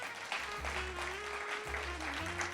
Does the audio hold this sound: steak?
no